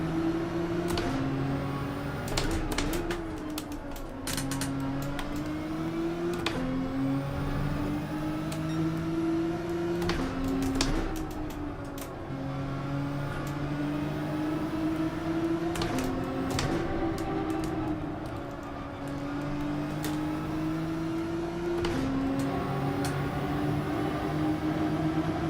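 Group 3 race cars circling Daytona International Speedway in Gran Turismo 7, a steady engine drone with rising and falling pitch as gears shift, constant and fairly loud with brief sharper bursts throughout.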